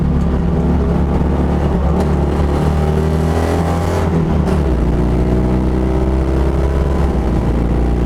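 Carburetted Citroën Dyane 6 race car driving on a circuit, its engine droning loud and steady from inside the cabin, with a brief rise and dip in revs around a gear change midway.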